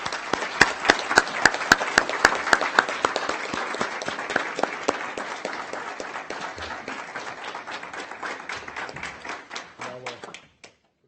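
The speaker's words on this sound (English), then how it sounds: "Can you please give them a round of applause?" An audience at a school board of education meeting claps for student musicians, including double bass players, in a strong burst of dense applause that gradually thins and fades out, ending with a few scattered claps.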